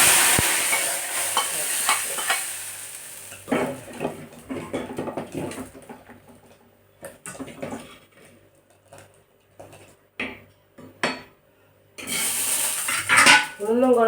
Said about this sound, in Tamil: கடுகெல்லாம் நல்லா பொரிஞ்சிட்டு